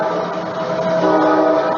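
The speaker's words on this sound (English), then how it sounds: "And here comes the train that he tried to make sure didn't continue to run." A commuter train passes close by, a steady loud rumble with sustained horn-like tones held throughout, no voices present.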